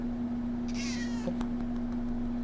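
A single high, drawn-out cat meow rises briefly over a steady electrical hum in a quiet indoor room. No one speaks.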